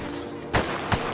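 Two sharp gunshots ring out about a third of a second apart during a bank robbery scene in a film, each a loud, brief crack over a steady background.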